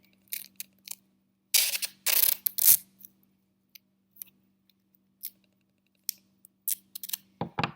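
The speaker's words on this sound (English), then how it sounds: "And you're going to take masking tape." Masking tape is ripped off the roll and pressed onto fleece for a no-sew hat: several loud sharp tearing bursts in the middle, followed by scattered small taps and crinkles over a faint steady hum.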